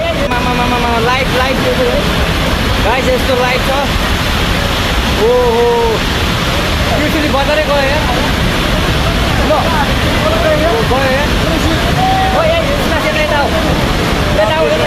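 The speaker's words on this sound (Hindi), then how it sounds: "पानी की भयावहता का अंदाजा ऐसे लगाइए कि जो भी ब्रिज सामने आ रहा था वो बह जा रहा था।" Nepal flash floodwater rushing loudly and continuously, a dense roar that swept away an iron bridge, with a voice talking over the torrent throughout.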